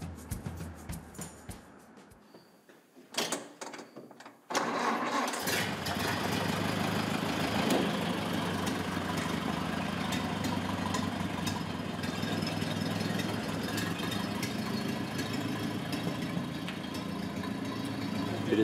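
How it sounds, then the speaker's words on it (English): The engine of a 1929 Model A Ford Roadster idles with a steady, loud, slightly knocking rumble after a few quieter sounds at the start, running continuously to the end without talk. "It is a 1929 Model A Ford Roadster."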